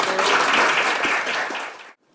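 Audience applause at a Korean policy forum on K-fashion globalization, a loud, full burst of clapping from a seated crowd that fills the room for about two seconds, then cuts off abruptly.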